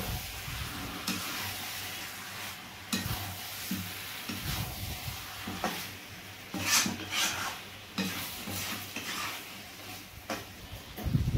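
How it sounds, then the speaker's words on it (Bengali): Chicken pieces and potatoes are sautéed for a Bengali chicken curry, sizzling steadily in a pot while a utensil scrapes and stirs at intervals. The sounds are close and continuous. "মাংসটা বেশ কিছুক্ষণ কষার পর এবার আলু দিয়ে আর একটু ভালো করে কষে নিতে হবে।"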